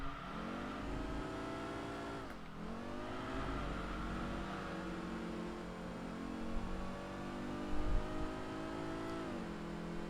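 A racing car engine in the Enthusia video game drones steadily at high revs, its pitch dipping briefly on a shift or lift and then climbing again, loud and close throughout with no talk.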